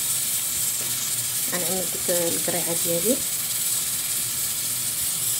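A couscous steamer pot with pumpkin cooking inside hisses steadily with escaping steam while a person speaks briefly over it.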